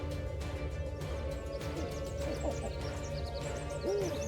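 A snowy owl in the wild, cold mountains hoots once, low and fairly faint, against a steady outdoor background with scattered higher bird calls.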